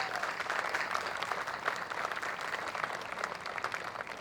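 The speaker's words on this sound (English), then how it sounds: "Let's give them a big round of applause." Sustained applause from a large crowd at a park grand opening, steady and even throughout, heard from a moderate distance.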